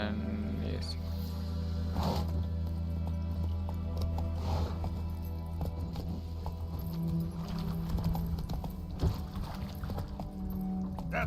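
Roach, a horse in a video game, clip-clops along with a steady hoof rhythm under a continuous low hum of game ambience, with a person occasionally talking.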